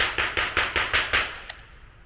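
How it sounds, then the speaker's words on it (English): Rapid sharp reports ring out in an evenly spaced run of about six or seven, followed by a fainter click. The sequence sounds close and loud with no talk. "So we'll fire the 2 rounds of hollows."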